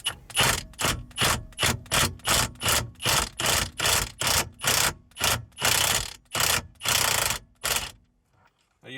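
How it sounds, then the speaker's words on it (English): An impact wrench loosens the 21 mm steering wheel nut on a 2016 Kia, hammering in about a dozen loud, rapid bursts close by, each with short gaps between, before stopping near the end. "I'm going to use an impact"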